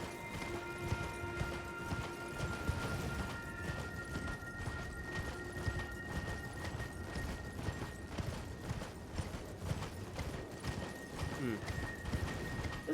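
Horse hooves clip-clop in a steady trot through Elden Ring, a fantasy video game, with faint sustained game music tones underneath.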